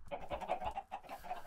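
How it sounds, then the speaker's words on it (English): Chickens clucking in a Minecraft chicken farm, a steady run of short clucks and squawks close by, with no talk over them. "I did make a chicken farm."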